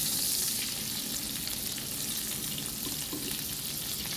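Rib eye steak sizzling loudly and continuously in a pan just after being flipped, a dense crackling fry with no talking.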